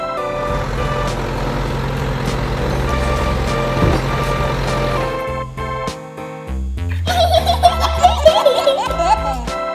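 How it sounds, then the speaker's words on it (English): A cartoon bulldozer rumbles with a low engine drone and repeated reversing beeps, followed by a brighter burst of playful sounds and giggles near the end, loud and close. "Bulldozer."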